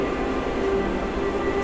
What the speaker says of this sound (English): So guys, welcome inside the subway.